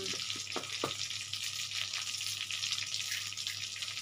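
Panch phoron spice mix sizzles in a dry pan before any oil is added, as part of a prawn curry with potato, cauliflower, pumpkin and capsicum: a steady close hiss with a few light crackles and pops early on.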